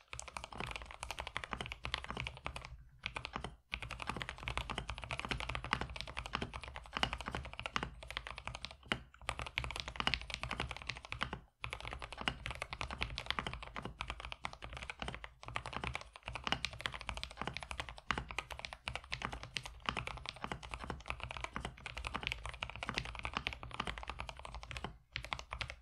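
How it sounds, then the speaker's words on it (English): Continuous typing on a Buger Work BBox60 mechanical keyboard, dense steady clacking with a deep, slightly muted tone and a few brief pauses, no voices. "this keyboard does sound, deep and a little bit muted"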